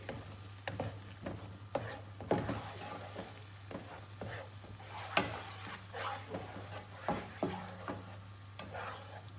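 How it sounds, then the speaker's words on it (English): Mango peda mixture with saffron and cashew paste stirred in a pan over a medium gas flame: soft rhythmic scraping and tapping of a spoon against the pan over a low steady hum and faint sizzle, no talk. "Start mixing it. Remember, the gas should always be at a medium flame."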